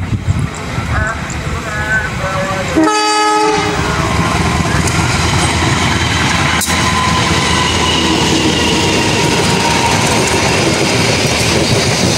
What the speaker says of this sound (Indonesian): kita simak dulu ini kereta api 415 Doho dari stasiun Surabaya Kota tujuan Blitar